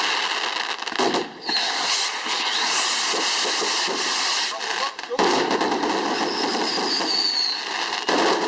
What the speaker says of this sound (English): 25 rockets.